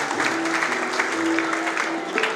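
An audience at a community award and youth talent felicitation ceremony applauding, a steady, dense patter of clapping that holds for a couple of seconds with a little voice in the background.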